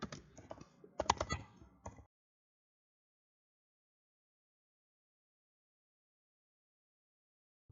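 Keys clatter on a computer keyboard while Python code is written for a REST API app: a quick, dense run of keystrokes lasting about two seconds, then silence.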